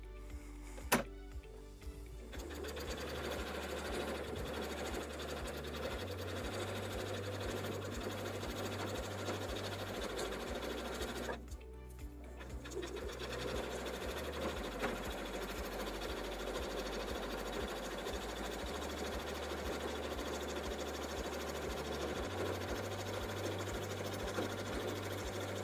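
A sewing machine runs steadily, stitching the lining of a scrappy fabric oven mitt a quarter inch from the edge, with a continuous motor hum and rhythmic needle chatter broken by two brief pauses.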